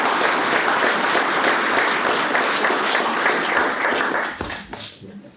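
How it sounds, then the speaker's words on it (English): Sustained, loud audience applause at a historic district presentation, a steady wash of clapping that fades away near the end of the clip. "Round of applause"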